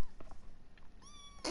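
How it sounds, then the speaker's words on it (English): A pet cat gives a short, clear meow, rising then falling, followed by a brief louder sound, indoors and close to the recording. "Kitty, come here. Come lay down."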